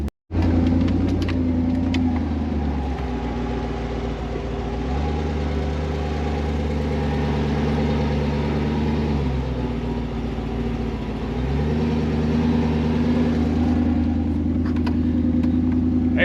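A Jeep engine hums and rumbles steadily while driving toward Fort Fisher beach in two-wheel drive with tires aired down, a close, constant cabin drone with slight shifts in pitch.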